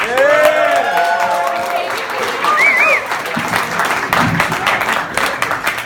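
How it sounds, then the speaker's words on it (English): An audience applauds with dense, sustained clapping, and some cheering and whoops rise above it near the start. "Let's make some noise for Carl."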